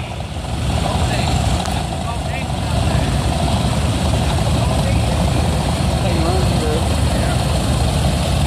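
A Minneapolis-Moline ZB tractor runs in a tractor parade at an engine show in Eagleville, Tennessee, its engine a steady, loud, unbroken rumble from start to finish.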